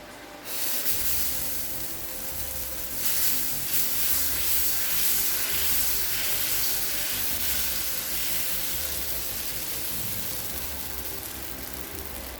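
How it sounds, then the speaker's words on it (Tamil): Egg dosa batter is poured onto a hot pan at a roadside stall and sizzles loudly and continuously, a dense hiss that swells after a few seconds and holds steady. "இப்போ தோசைகள் சூடாகிடுச்சுங்க. முதல்ல தோசை ஊற்றிக்கலாம்."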